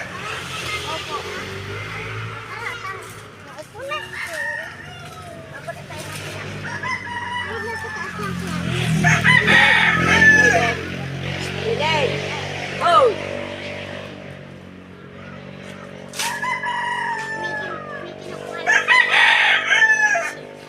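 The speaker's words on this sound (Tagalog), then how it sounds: "May manok pa." A rooster crows several times nearby amid clucking hens, with people talking and a vehicle engine rumbling in the background.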